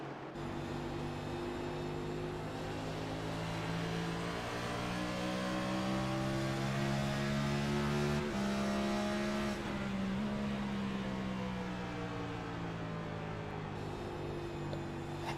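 Onboard sound of a race car lapping the New Hampshire oval in the iRacing sim: a steady, loud engine drone with layered harmonics that shift slightly through the corners. The tire noise is not clearly separable from the engine.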